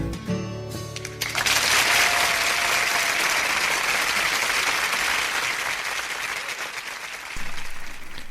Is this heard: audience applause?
yes